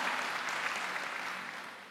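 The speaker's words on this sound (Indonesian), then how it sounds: "Tepuk tangan bagi dia." Applause from a church congregation during an online worship service, a steady wash of clapping from start to finish that fades slightly toward the end, with no talk over it.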